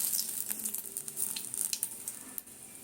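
A bay leaf drops into hot oil in a pan as a vegetable curry begins, giving a continuous crackly sizzle with small pops and spatters, fairly close and alone.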